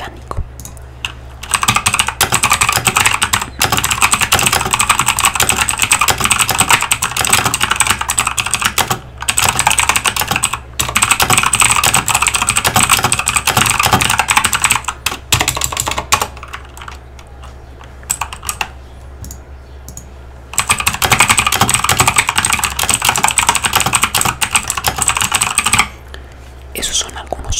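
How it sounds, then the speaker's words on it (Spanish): Fast, clicky typing on an Eagle mechanical keyboard, picked up close by a Blue Yeti microphone, in long steady bursts separated by a few short pauses and one longer break midway. "Ahora escuchen cómo se escucha el teclado mecánico, este Eagle, cómo se escucha."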